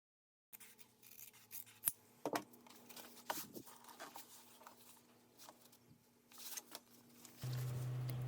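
Scissors trim the top edge of a fabric bag lining panel, with several close, crisp snips and cutting sounds in a quiet room and some light handling rustle.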